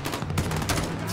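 Gunfire in the game Call of Duty Modern Warfare 2019 gives a quick, dense string of loud shots packed into about a second, close and harsh.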